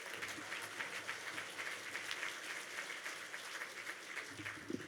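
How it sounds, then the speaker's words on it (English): An audience at a South Florida Muslim organizations event applauds the MC, Calvin, with steady, even clapping that sounds moderately distant and continues throughout. "Yes, a great round of applause for Calvin."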